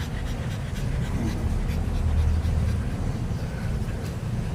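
A pet dog pants close to the microphone, a quick, steady run of breathy huffs lasting the whole clip over low background rumble, with no talking.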